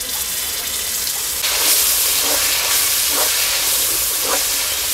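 Ginger, garlic and onion paste sizzles in hot mustard oil for a poultry chicken curry, a steady broadband hiss that swells louder partway through, with a few faint scraping clicks over it.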